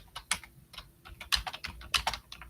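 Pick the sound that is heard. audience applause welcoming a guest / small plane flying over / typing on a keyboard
typing on a keyboard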